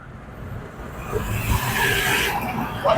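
Car driving over a wet, potholed road, with a continuous close rumble of tyres and body vibration that swells toward the end, no talk.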